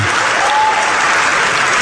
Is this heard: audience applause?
yes